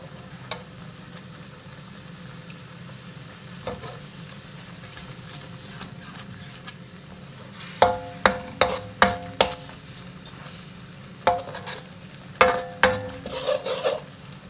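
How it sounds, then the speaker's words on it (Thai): Coarse red Thai curry paste stir-fries in a pan with a low steady sizzle, then a run of sharp, rhythmic scrapes and knocks of the spatula against the metal, with no talk. "แล้วก็จะผัดพริกแกงไปให้หอมนะครับ"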